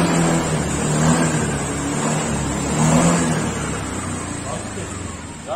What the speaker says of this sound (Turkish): Motorumuz gayet sağlıklı çalışıyor.